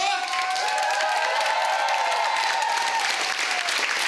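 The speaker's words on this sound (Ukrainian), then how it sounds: "ви мені так поаплодуєте, що нікому так не аплодували" Loud, dense applause from a large crowd fills the whole stretch, steady and enthusiastic, with faint cheering and a tonal voice-like sound mixed in.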